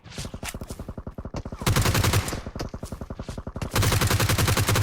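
Rapid automatic gunfire from the mobile battle royale game PUBG Mobile, loud, close bursts of repeating shots with steady rhythm, brief gaps between volleys.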